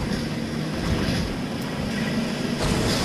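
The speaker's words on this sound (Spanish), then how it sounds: "Estefan, que es un aerodeslizador, no una lancha tonto." A hovercraft races across water in Fortnite, a loud steady engine roar with rushing wind and spray filling the whole stretch without a break.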